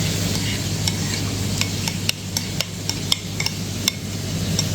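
Chicken being mixed with tandoori shashlik paste, uneven clicks and taps of a spoon against the bowl at close range over a low steady hum, without any talking.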